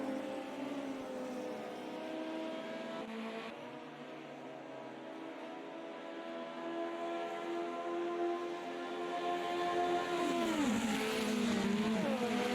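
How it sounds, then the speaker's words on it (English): Formula Junior race cars at Monza pass in a steady engine drone that swells louder toward the end as one sweeps by, its pitch bending downward as it goes. "Don't these cars sound great? Great audio."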